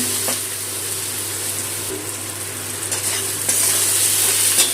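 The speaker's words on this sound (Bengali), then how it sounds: "ভালো করে মশলাটা কষিয়ে নেব।" Spice paste and potatoes sizzle and scrape in hot oil for a Bengali boal fish curry, a steady close frying hiss with stirring clatter throughout and no talk.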